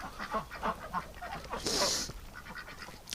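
Ducks in a winter pen quack in a rapid, overlapping chatter at close range, with a brief burst of hiss or splash partway through.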